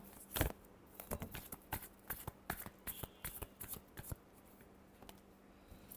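Tarot cards riffle and snap through a shuffle in a steady run of sharp, papery bursts, close and fairly quiet, with a louder flurry at the start and no talking.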